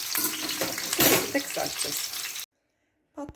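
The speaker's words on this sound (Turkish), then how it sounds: "Kızgın yağ atıyorum ve bu şekilde çevirerek kızartacağım." Dried eggplant pieces sizzle and crackle in hot oil while being turned, a loud dense frying hiss with clattering stirs that cuts off abruptly into silence, then briefly resumes.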